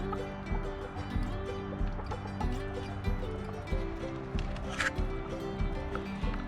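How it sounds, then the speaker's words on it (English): Chickens, a rooster named Chuck and two hens, heading up into the hen house; soft clucks sound close amid a steady low background rumble, with a brief brighter burst midway. "That's Chuck and his 2 original hens going up in the hen house"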